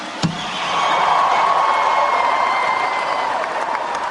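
Thundering applause from a large rally crowd after a presidential speech, a sharp clap sound then dense sustained clapping and cheering that swells and holds loud throughout.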